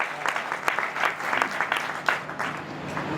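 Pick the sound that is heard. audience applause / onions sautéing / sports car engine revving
audience applause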